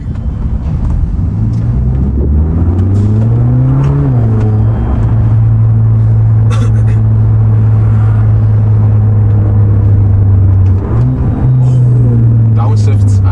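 Mercedes CLA 55 engine droning loudly on a rainy mountain road, rising in pitch around four seconds and again near eleven seconds as it downshifts, with talk over the engine.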